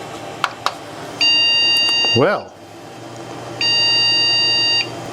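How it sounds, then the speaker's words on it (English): Two long electronic beeps from a computer motherboard at power-on, each about a second, steady and loud, separated by a pause, with a brief spoken word between them; RAM is fitted in the slot closest to the processor. "now why are we getting 2 beeps with that RAM being plugged into that slot?"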